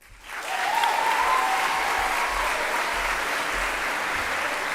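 A chapel congregation gives a student a round of applause at a service, dense steady clapping swelling in quickly and holding loud and full throughout.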